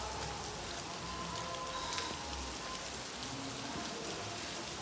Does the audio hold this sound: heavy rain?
yes